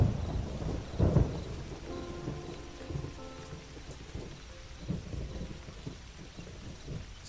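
Heavy rain and rolling thunder in a scene from a Malayalam action film. A loud low rumble comes near the start, then softer rumbles continue over a steady wash of rain. No one speaks.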